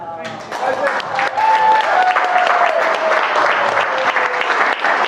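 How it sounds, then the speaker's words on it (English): A round of applause for a couple at a wedding celebration, swelling after a brief start and holding steady and loud, with voices and cheers mixed into the clapping. "Yeah, let's have another round of applause."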